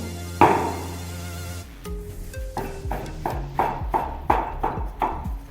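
A knife slices washed, cleaned mushrooms into thin slices on a cutting board, giving a series of soft, evenly spaced taps and chops that begin after a brief clatter, close and fairly quiet with no talking.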